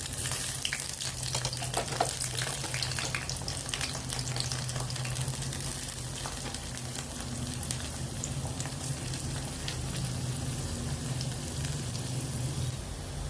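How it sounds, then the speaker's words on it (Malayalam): Half an onion fries in coconut oil in a pan, giving a steady, close sizzle with faint crackles throughout and no talking. "ഞാനൊരു ചീനച്ചട്ടി എടുത്ത് വെച്ചിട്ട് ആവശ്യത്തിനുള്ള വെളിച്ചെണ്ണ ഒഴിച്ചു കൊടുത്തു കേട്ടോ. എന്നിട്ട് ഇതേ ഒരു സവാളയുടെ പകുതി ഇട്ടിട്ടുണ്ട്."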